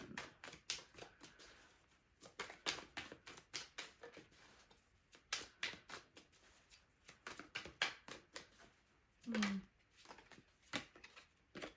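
Tarot cards shuffled by hand, a quick series of crisp riffling and flicking bursts in uneven rhythm, close and fairly quiet with no talking.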